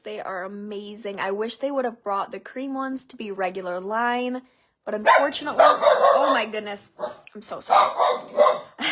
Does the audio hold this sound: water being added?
no